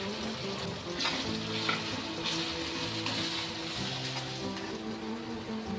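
Onion and tomato frying with homemade onion-garlic masala and garam masala in a pan, a steady, close, dense sizzle with faint stirring scrapes throughout and no talk.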